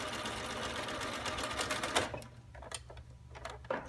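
Close, rapid whirring and clatter of a sewing machine stitching a fabric doll runs steadily, then breaks into a few short stuttering bursts as the machine falters.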